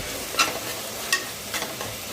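Tomato, onion and green chili sautéing in a pan for chicken biryani, with quiet continuous sizzling and a few sharp scraping stirs of a spoon against the pan, no talk.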